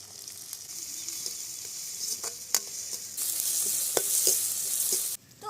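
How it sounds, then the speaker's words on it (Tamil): Tomatoes, carrots and beans with mustard seeds, garlic, onion and curry leaves fry steadily in wood-pressed oil, stirred now and then with sharp scraping clicks under an unbroken sizzle that swells louder midway. "காய் எண்ணெயிலேயே ஒரு 5 நிமிஷம் வேகட்டுமா"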